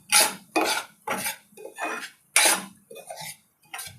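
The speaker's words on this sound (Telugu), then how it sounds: "ఇదే నెయ్యిలో ఈ 1 కప్పు నెయ్యి రవ్వ వేసి స్లోగా ఇది కొంచెం కలర్ మారే వరకు వేయించేసుకోవాలి." A spoon scrapes and clinks against a pan as semolina (rava) is stirred and roasted in ghee for sweet seera, several distinct short metallic scraping strokes in an uneven rhythm, close and fairly quiet.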